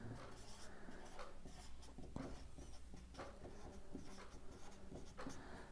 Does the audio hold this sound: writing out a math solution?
yes